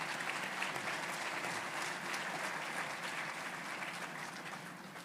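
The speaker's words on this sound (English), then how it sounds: "I'd really like to give Amy a round of applause, even in absentia." A large audience at a hospital foundation gala gives a continuous round of applause, dense and steady, tapering slightly toward the end.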